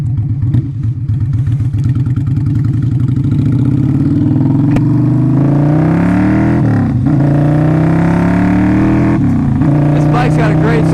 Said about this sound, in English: This bike's got a great sound to it. It's nice and loud.